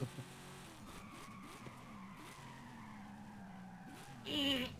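Car tires skidding under hard braking in the Forza Horizon 5 racing game, a steady low engine drone with a sustained scrubbing squeal, swelling louder near the end, with no talk over it.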